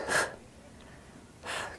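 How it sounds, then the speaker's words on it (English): During an ab workout, two loud, close, forceful breaths, an exhale at the start and another near the end, with quiet room tone between them. "You can hear me breathing."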